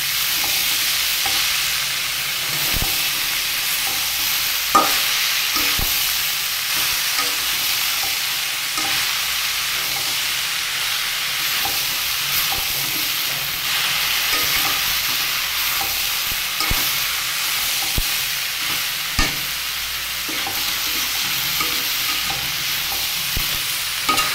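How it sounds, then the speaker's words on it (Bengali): Mixed vegetables with steamed cabbage, chickpeas, corn, carrot, sweet potato, potato and green banana fry slowly over low heat, a continuous close sizzle broken by frequent sharp scrapes and knocks of stirring. "আর এইভাবে আস্তে আস্তে জাল দিয়ে সবজিটা ভেজে নেব।"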